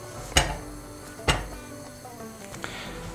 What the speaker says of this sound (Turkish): böyle bir küçük bir tencere bir ocağa koydum ve tereyağlarımızı içine atıyorum